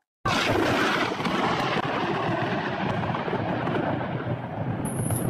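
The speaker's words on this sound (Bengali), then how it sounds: "আকাশে মেঘ ডাকা শুরু" Thunder rumbles across the sky in a sudden loud, deep roll that starts abruptly and lingers as a sustained broad rumble, fading slightly, with no talking.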